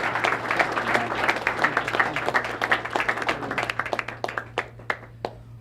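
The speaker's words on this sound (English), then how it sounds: "Please give him a great round of applause as he comes up here and talks about his company." A crowd applauds as a company representative comes up to speak at a Louisiana jobs announcement, with dense clapping at the start that thins into scattered, separate claps toward the end.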